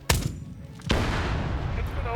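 A launcher named Lincoln's Buzzsaw firing musket cannonballs from 6-shot drums in a video game: two heavy booming shots about a second apart, each followed by a long rumbling tail. Quiet talk sits under the shots.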